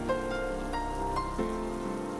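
Rain falling on a surface during a heavy downpour, a constant moderate patter without pauses, heard alone with no talking.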